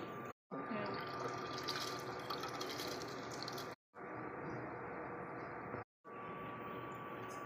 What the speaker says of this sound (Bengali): ডালটা ভালো করে ধুয়ে নেবো